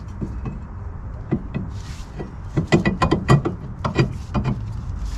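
Metal brake drum on a Honda being slid back over the rear hub and lug bolts, giving a series of close, sharp metallic knocks and scrapes that cluster into a busy burst midway before trailing off.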